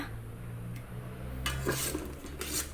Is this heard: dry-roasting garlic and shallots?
yes